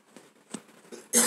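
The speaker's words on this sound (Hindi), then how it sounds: "मुझे आज खांसी बहुत आ रही है" A person coughs a few times, faint and scattered at first, ending in one louder, harsh cough close up.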